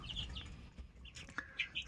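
Gosling chicks peep from inside a brooder box made of a lidded container, high thin calls coming in a few short bursts over a low background hum, fairly faint and close.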